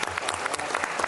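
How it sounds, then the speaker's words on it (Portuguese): Brief burst of applause in a state finance committee session, a steady patter of many hands clapping at close range, with no talk. "uma salva de palmas para o Geraldo e para toda a equipe aí."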